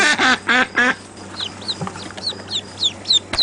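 Ducklings in a bucket give a run of small, high, rapid peeping calls, preceded by a few louder, harsher honking quacks from a larger bird close by.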